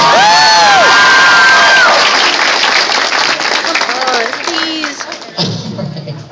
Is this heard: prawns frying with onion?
no